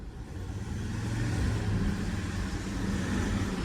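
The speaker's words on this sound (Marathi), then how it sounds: "असं थोडी जर रेस दिलं तरी गाडी एवढी आवाज मारते." A car engine revs up in a short swell, a low rumbling roar that builds and holds, close and fairly loud, with no voices.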